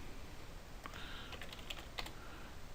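A short burst of computer keyboard typing while writing code, a quick cluster of soft clicks followed by a couple of isolated keystrokes, heard alone against a quiet background hiss.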